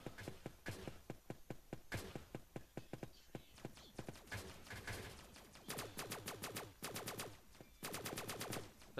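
Submachine gun fire in a Roblox shooter game, rapid sharp bursts of shots in quick runs, loud and close, with a few spaced single shots between bursts.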